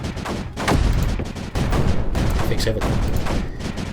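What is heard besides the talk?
gunfire from guns in video game Creeper World 4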